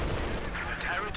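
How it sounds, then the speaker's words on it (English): Mortar fire in the strategy game Company of Heroes 2 comes as a rapid, muffled booming rumble during a battle, quiet and mixed with other gunfire noise. "We do see them mortar firing, but ultimately it's not fast enough."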